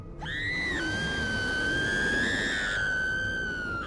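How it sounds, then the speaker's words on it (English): A woman's long, sustained scream in the video game What Remains of Edith Finch, with a rising pitch break partway through, holding loud and close for several seconds with no talk over it. "She learned how to scream."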